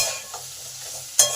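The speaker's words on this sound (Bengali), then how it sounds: "নুন আর হলুদটাকে ভালো করে মিশিয়ে দিই" Potatoes being stirred with salt and turmeric in a frying pan: steady oil sizzle with a soft scrape midway and a sharp spatula clatter near the end.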